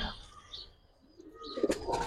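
A single female Pakistani high flyer pigeon gives soft, close coos, with brief chirps and a faint flutter of wings amid quiet rustling.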